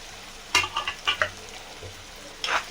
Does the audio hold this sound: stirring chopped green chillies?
yes